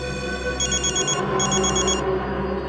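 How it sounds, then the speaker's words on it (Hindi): A telephone rings in a TV crime drama, a repeating electronic ringtone over a low steady background hum, moderately loud and with no talk. "ये तो उसी के किडनैपर का फोन है"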